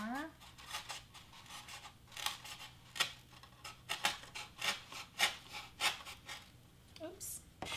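Scissors or a blade cut through a piece of a Snoopy Christmas craft prop with lights, giving a series of short, crisp snips and rustles at an uneven pace, close and fairly quiet.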